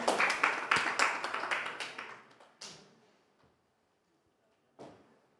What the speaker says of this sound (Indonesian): Belum, udah tepuk tangan aja.